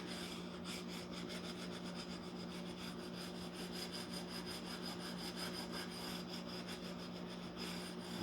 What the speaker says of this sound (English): So now I'll switch over to a finer grit, and this is going to really start polishing.